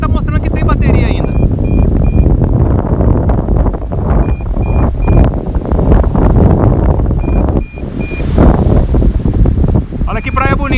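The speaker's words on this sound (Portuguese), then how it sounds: "Não sei se tem como configurar esse alarme de bateria baixa, né? Ele tá alarmando, alarmando" An MJX Bugs 3 Pro drone's low-battery alarm gives repeated electronic beeps in a steady pulsing pattern, heard over strong wind noise and rushing air outdoors above a beach.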